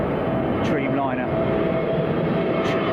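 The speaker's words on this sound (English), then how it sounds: "777, I think, or is it a 777-200?" A Boeing 777 jet at windy London Heathrow airport roars as a steady, broadband engine rumble that fills the whole moment without easing, with wind noise mixed in.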